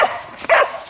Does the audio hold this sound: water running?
no